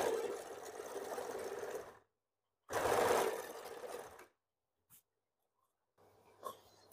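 A sewing machine runs in two bursts of stitching on a blouse hem, steady mechanical whirring up close with a short gap between, followed by faint clicks and quiet handling.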